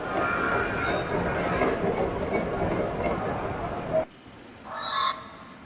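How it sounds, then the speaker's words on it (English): Bird cawing in the video game Neyyah, a crow-like call heard over a steady ambient background, followed by a brief bright burst of sound near the end. "There's a bird there."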